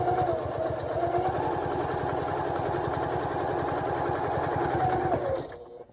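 Sewing machine stitching a fabric heart pouch, its needle running in a steady, rapid mechanical rhythm for about five seconds, loud and close, before it stops and trails off into quiet.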